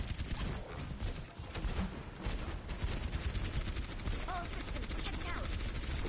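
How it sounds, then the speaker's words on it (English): Torbjörn's auto-targeting turret in an Overwatch match keeps firing in steady rapid bursts amid battle noise from other weapons, with excited commentators talking over much of it. "Torb turret doesn't miss because it locks on"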